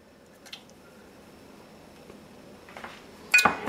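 An egg goes into a bread machine pan that already holds warm water, landing with a brief, soft, wet squish near the end after a mostly quiet stretch with a few light taps.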